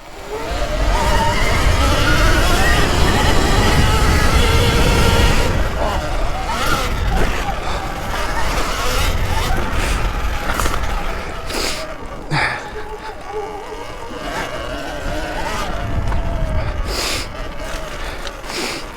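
Sur Ron Ultra Bee and Talaria Sting R electric dirt bikes race across dirt, giving a steady loud rush of motor whine and tire roar that eases midway, with scattered knocks and clatters in the later part.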